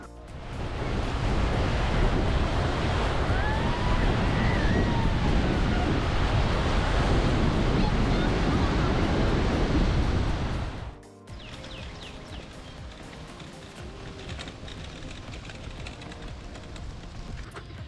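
Surf washing steadily onto the beach at Long Point Provincial Park, a broad, loud roar with wind buffeting the microphone for about ten seconds, then cutting to a much quieter, softer stretch of distant water and breeze.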